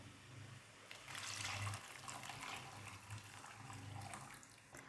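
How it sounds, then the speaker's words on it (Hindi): Water is poured into a pot of boiling yogurt gravy, making a continuous soft gushing and splashing that lasts several seconds, quiet and without talk. "अब मैं इसमें 4 गिलास पानी के शामिल करने लगी हूँ।"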